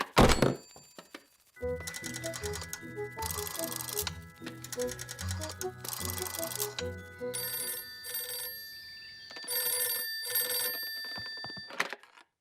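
Cartoon telephone in a children's animated show: a bright mechanical bell rings in repeated bursts, mixed with clattering thunks and a busy tinkling musical score, fairly close and clear with no talking.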